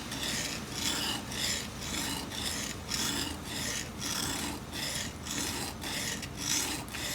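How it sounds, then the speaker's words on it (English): A hand tool blade is sharpened on an oiled stone with steady back-and-forth rasping strokes, about two per second, close and even, with no speech over it. "You're sliding from one side to the other. You find your bevel and you rock it back and forth."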